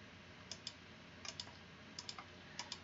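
Computer mouse clicking in dental implant planning software, a few crisp single and double clicks in pairs spread over a quiet background.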